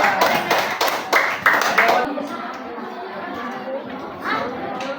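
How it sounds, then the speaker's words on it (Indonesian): Classroom applause for a group of elementary school students during a coding and mathematics lesson, with a burst of close clapping and chatter that fades into murmuring voices. "Tepuk tangan untuk kelompok 2"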